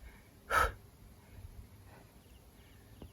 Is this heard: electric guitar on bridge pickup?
no